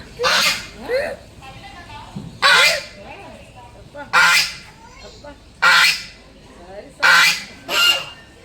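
Ducks at a new bird park honking and quacking in loud bursts roughly every second or so, six calls in a row, close by with a faint murmur of voices in between.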